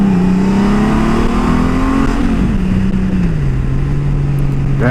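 A 2018 Honda Goldwing motorcycle pulls away from a standstill, its engine loud and close, pitch climbing through a gear, dropping at a shift and rising again under steady drone, with no voices.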